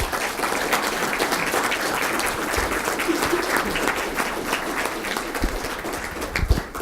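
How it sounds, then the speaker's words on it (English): A room full of people applauding, steady clapping that carries on for several seconds and starts to thin out near the end. "a round of applause"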